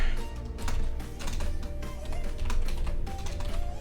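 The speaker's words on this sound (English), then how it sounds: "typing in front of people, nightmare" Rapid keystrokes on a computer keyboard while coding a video game, a busy run of overlapping taps over a dense background of steady music, with no talk.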